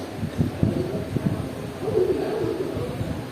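A human voice imitates a bird's call with a few soft, low hoots followed by a longer cooing tone, heard indoors over a faint background hum.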